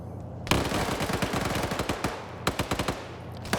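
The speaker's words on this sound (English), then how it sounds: "Cheeseburger pre-firing a corner here. He's got a PKP, that's why" A PKP machine gun fires in a video game, a rapid burst of closely spaced shots followed by a shorter second burst, sharp and moderately loud with no talking over it.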